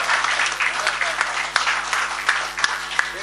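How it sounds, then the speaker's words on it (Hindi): Audience applause welcoming a guest at a mushaira poetry gathering in Bansi, Siddharthnagar: steady, dense clapping from a crowd with a few sharper claps standing out, over a constant low hum. "हम सब मिलकर के इस्तकबाल करेंगे एक तालियों के साथ"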